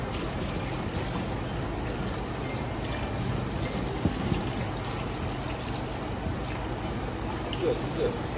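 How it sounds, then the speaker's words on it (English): Running water pours steadily over a bulldog during a bath, a constant broadband splashing rush, with someone talking soothingly throughout. "I'm just rinsing you off"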